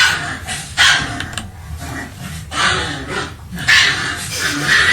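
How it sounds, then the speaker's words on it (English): A mother dog barks and growls at her puppy, a series of loud, close barks and snarls coming in repeated bursts with brief pauses between them. "The dog, look like the mom, is disciplining his little puppy."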